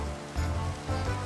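Steady rain falling in a Minecraft game world, a soft continuous hiss with low rumbling swells, no voices over it.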